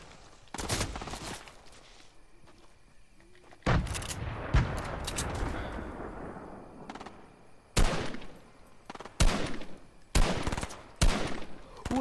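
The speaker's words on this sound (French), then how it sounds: "Attends, ça me tire d'où?" Video game gunfire crackles in repeated sharp bursts and volleys, loud and close, with short rattling strings of shots separated by brief lulls.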